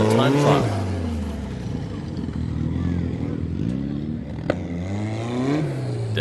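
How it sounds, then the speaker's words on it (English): Engines of 4x4 off-road cars strain in low range during a time trial at a national off-road challenge, revving high and rising in pitch, loud and close, with a voice commenting over the noise. "If it sounds like the cars are over-revving, remember that these vehicles need to be in low range when competing in the time trial"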